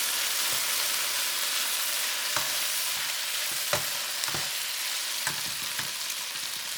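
A tablespoon of chopped garlic fries in a hot pan for a spicy chicken and green beans dish, giving a steady, bright sizzle punctuated by several sharp taps and clacks of stirring.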